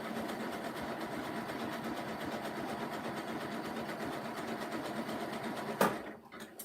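A sewing machine zigzag-stitches a rope basket at a steady, fairly quiet whir, running alone for several seconds before a sharp clack and a brief stop near the end.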